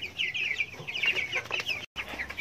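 Farm chickens cluck close by in a poultry box of about thirty birds, several overlapping, busy clucks running continuously with a brief dropout near the end.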